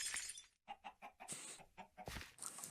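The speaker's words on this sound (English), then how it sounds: "I wish those chickens would be quiet." Chickens in the Minecraft modpack FTB Revelation clucking in a quick burst of short rhythmic calls, fairly close and faint, with a sharper squawk near the end and no speech.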